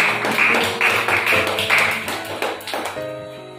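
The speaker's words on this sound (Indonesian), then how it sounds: "kita berikan aplaus dulu kepada kelompok biru" Classroom applause for a student group: a short burst of quick, fairly loud clapping from several people that thins out toward the end.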